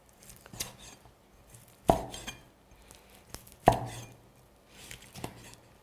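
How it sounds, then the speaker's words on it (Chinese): Two heavy cleaver chops strike a board about two seconds apart, loud and close, with lighter knocks and handling sounds between them. "有肉的就切，帶骨頭的直接剁。"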